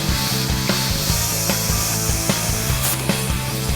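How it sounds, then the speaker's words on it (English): A power tool cuts through the sheet-metal floor of a Camaro to make room for a shifter, a loud continuous grinding roar with regular rhythmic pulses about every half second, close up. "then cut a small section of the floor big enough to get our shifter up inside the cab"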